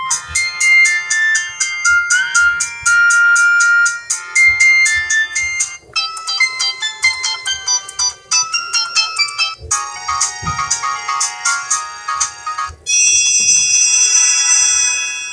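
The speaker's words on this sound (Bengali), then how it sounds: "ফোনটির মূল আকর্ষণ রিংটোন সেটা কেমন ছিল রিংটোনের যে ভলিউমটা আমরা একটু চেক করবো" A Benco C1 button phone plays its built-in ringtones loud and close, several short electronic melodies in turn, each a bright, rhythmic run of beeping tones with brief gaps between them.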